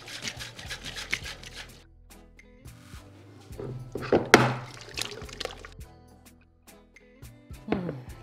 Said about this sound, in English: just a little bit of water